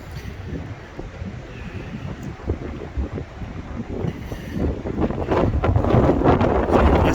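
Strong gusting wind buffets the microphone at an EV charging station beside a Volvo C40 on a 150 kW charger, rumbling and roaring, building louder and rougher over the seconds with no talk.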